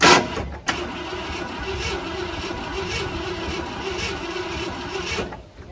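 An old Ford F-100 pickup that has sat unused for years, its engine cranking loud and close in a steady churning whir for about five seconds as it struggles to fire, then winding down.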